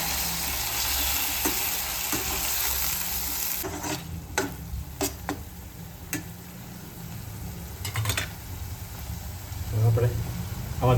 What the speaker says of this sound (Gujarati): હવે આપણે એમાં ટમેટા ઉમેરી દઈશું.